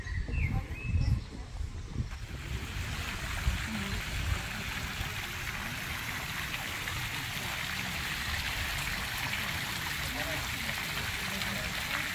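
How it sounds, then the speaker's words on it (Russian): Fountain water splashes steadily at the exit of a riverside promenade in Narva, Estonia, a constant close wash of spray with people talking over it near the start. "Здесь еще фонтан на выходе какой."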